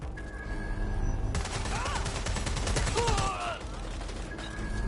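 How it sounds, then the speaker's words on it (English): Bursts of rapid automatic gunfire rattle out in a video game firefight, loud and sustained for a couple of seconds amid game effects, with a voice speaking briefly and a steady background hum before and after. "Gunfire!"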